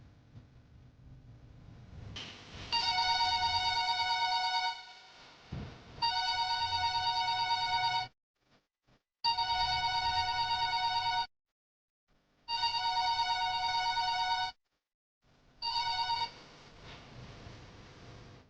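A telephone rings during a Telugu TV drama scene, a melodic ringtone repeating in four long bursts separated by short silences, loud and close, with no talk over it.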